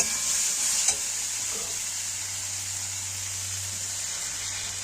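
Steady sizzle of a spice paste frying in a pan for an egg and soybean curry, with a brief spike near the start as a little water hits the hot masala; continuous hiss, no talk.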